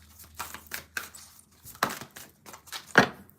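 A deck of playing cards being shuffled by hand in a tarot-style reading, heard as a series of short, crisp riffles and taps in irregular bursts, close and fairly quiet, with no talk.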